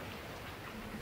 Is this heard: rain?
yes